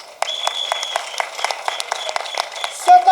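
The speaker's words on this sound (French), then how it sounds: "Applaudissez-vous." Scattered hand claps from a crowd at a street march against hunger and the high cost of living, sharp and fairly close, with a steady tone and voices mixed in.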